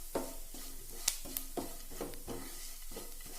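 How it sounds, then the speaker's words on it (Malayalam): Masala sautéing with curry leaves in a pan until brown, with a soft steady sizzle and occasional spoon scrapes and taps against the pan, quiet and close, no voices. "ഇതുപോലെ നല്ല ബ്രൗൺ കളർ ആവണ പോലെ നല്ലപോലെ വതക്കിയെടുക്കണം"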